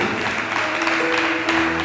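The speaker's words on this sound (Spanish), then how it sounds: "Dele el aplauso al Señor" A church congregation claps for the Lord, a short, dense burst of applause that fills the room evenly and then ends abruptly.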